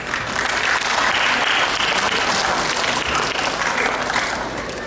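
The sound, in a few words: applause at Diwali festival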